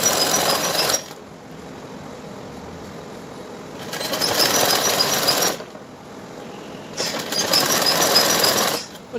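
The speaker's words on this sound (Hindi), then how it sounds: "अब इसके ऊपर एक कच्ची सिलाई लगा लेंगे" A sewing machine runs a loose basting stitch along a blouse sleeve in three separate bursts, each lasting one to two seconds, with quiet pauses between them.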